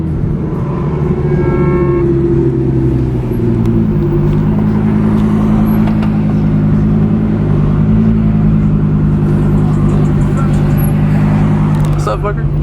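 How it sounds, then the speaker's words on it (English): A blue Toyota Supra slides at a California car meet, its engine rumbling and revving steadily throughout, with crowd chatter and shouting mixed in over the car noise. "The Supra is sliding."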